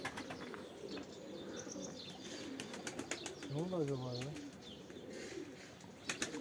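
Pet pigeons coo in a soft rising-and-falling call and flap their wings faintly in an outdoor loft, with someone speaking quietly nearby.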